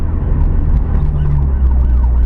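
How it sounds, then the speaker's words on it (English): An ambulance siren wails over loud, steady road and engine rumble, its rising and falling tone swelling and fading as the vehicle goes by. "ambulance"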